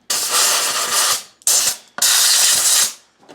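Compressed air blasting dust out of a black Rainbow E2 Type 12 vacuum cleaner under repair, loud harsh hissing in three bursts, the first and last long and the middle one short.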